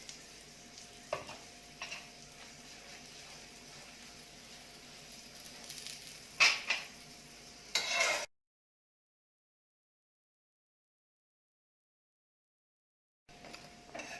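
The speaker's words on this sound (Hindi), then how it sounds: "इसी तरह पलट पलट के परांठे को गोल्डन ब्राउन होने तक फ्राई कर लेंगे" Radish and besan stuffed paratha frying in oil on a pan, a quiet even sizzle with a few sharper spatters and scrapes as it is turned, then sudden silence before the faint sizzle returns.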